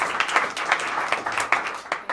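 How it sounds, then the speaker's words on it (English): An audience at a small song-swap music gathering claps in steady, dense applause, a continuous patter of many hands heard close and fairly loud throughout. "round of applause for Tim"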